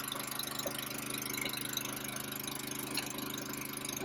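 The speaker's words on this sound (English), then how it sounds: "Once it starts up, take it off the choke. We now have the tank pump open." A brush truck's pump engine idles with its tank pump open, a steady close mechanical drone with a fine regular pulsing and a faint watery rush beneath.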